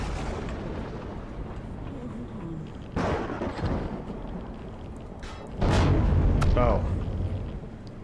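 A core blows up in the space-building game Empyrion, Reforged Eden 2 scenario, as a deep rumbling boom that swells over a constant roar. A voice calls out briefly over it.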